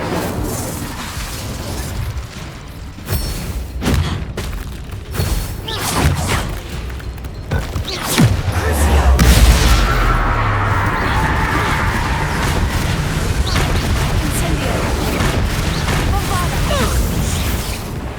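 Spell blasts and explosions from the Hogwarts Legacy video game, a dense run of loud booms, pops and thuds that leads into a sustained rumbling roar, with game voices mixed in.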